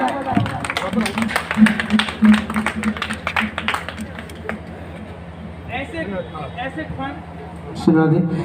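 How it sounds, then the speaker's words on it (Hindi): Audience at a Hindi inauguration and honouring ceremony for a roti food-service charity claps in bursts, loud at first, then thinning out, with a hum and speech babble underneath and a fresh swell near the end. "जोरदार तालियां एक बार बजाएं"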